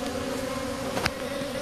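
Japanese honeybees swarming at a hive box in spring, a steady close buzzing drone of many insects with one brief louder pass near the microphone.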